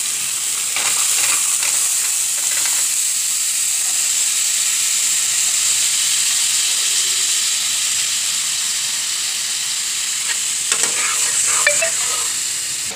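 Peas paneer masala stirring and frying in a pan gives off a continuous close sizzle and hiss, with brief scraping strokes of stirring near the start and again near the end.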